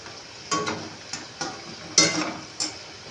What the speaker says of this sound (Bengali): এভাবে আমি সবকটা ভেজে নিচ্ছি